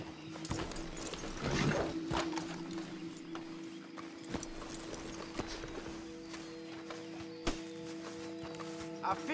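Horse hooves clip-clopping at a walk in Red Dead Redemption 2, steady moderate-volume hoofbeats with faint mechanical creaks and background ambience.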